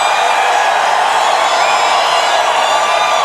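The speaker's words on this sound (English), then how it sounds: "a crowd like this has a roar" Sustained roar of a large crowd at a political rally in Atlanta, a steady dense wash of voices and cheering that stays loud and even throughout with no distinct speech.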